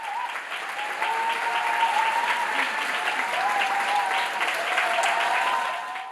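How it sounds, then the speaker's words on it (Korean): A concert hall audience gives a standing ovation after a gugak (Korean traditional music) performance, a sustained, even wash of applause with a faint voice line running beneath it. "관객들의 기립박수가 쏟아진다."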